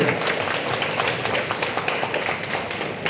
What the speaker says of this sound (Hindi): जोरदार ताली दीजिए थोड़ा सा